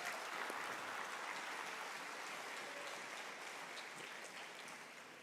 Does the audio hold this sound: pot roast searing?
no